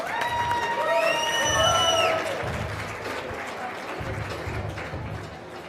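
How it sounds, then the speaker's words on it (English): An election night crowd applauds and cheers loudly, with whoops and whistles rising in the first seconds before the clapping settles into steadier, fading applause. "give a round of applause for Jessica Abbott here."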